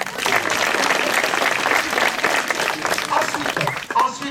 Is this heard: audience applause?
yes